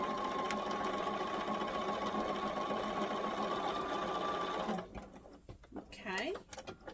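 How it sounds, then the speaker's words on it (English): A sewing machine stitches along a line on 5-inch fabric squares, a steady close whirring hum that stops partway, followed by soft handling sounds as someone speaks. "I'm going to stitch on both lines."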